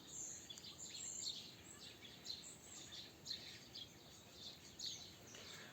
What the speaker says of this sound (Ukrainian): Зараз так гарно співають пташки.